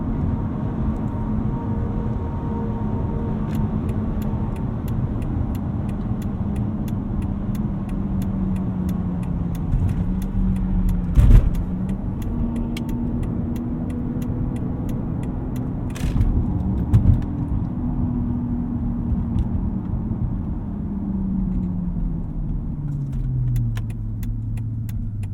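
A 2012 Mercedes-Benz S65 AMG with a V12 engine on the road: a steady, smooth low engine drone with gentle rises and falls in revs and tyre and road noise, heard close from inside the cabin.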